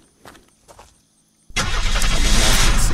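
A car engine in the Unturned video game cranks and catches after a second and a half of soft footsteps, then runs loud and steady up close.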